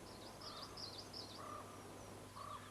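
A crow caws in a few harsh, separated calls at moderate distance, repeated with short pauses over a quiet outdoor background.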